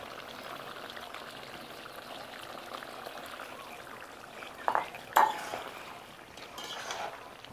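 Rice being added to a pot of boiled potatoes, a soft steady simmer with a brief pour and a couple of close clunks and scrapes of a spoon against the pot.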